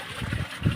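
Low, blustery wind rumble buffets the microphone in short gusts, with a faint steady hiss of open air behind it.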